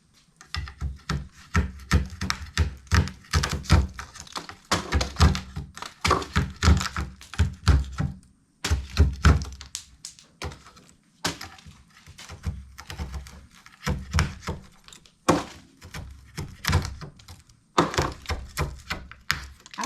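Knife and spatula chipping and prying at built-up ice inside a household freezer, a steady run of close, hard thunks and scraping taps in irregular bursts with brief pauses, no talking.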